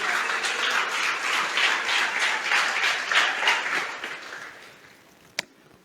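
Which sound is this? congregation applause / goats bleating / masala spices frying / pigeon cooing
congregation applause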